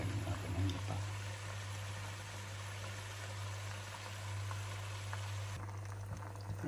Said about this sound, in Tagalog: Medyo kumukulo na. Pakuluan na lang natin.